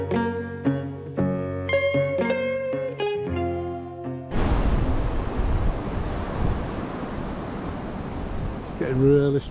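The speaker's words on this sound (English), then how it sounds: "Really strong the wind now." Strong wind gusts roar outdoors near a tree after a stretch of music, a loud, steady broadband rush that fills the second half and continues to the end.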